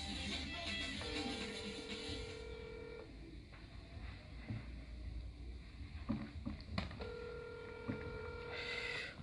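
A telephone gives out a few clear electronic tones, probably from dialing to call a beauty salon, set against quiet room noise with soft rustling and no voices.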